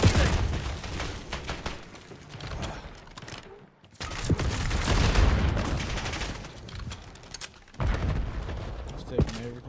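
Rapid bursts of automatic gunfire and booming blasts from a Call of Duty: Black Ops match, dense and loud in two long stretches with a short gap, mixed with game voice chatter.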